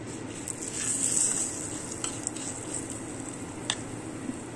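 Mustard seed, dried chili and curry leaf tempering sizzling in hot oil, a steady soft crackle with a few sharp pops and a brief louder hiss early on.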